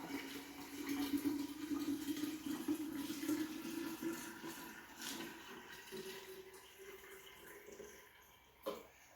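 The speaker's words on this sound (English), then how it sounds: "slowly and gently pour in your liquid" Warm pickling liquid pours steadily in a continuous gurgling stream that slowly tapers off, followed by a brief knock near the end.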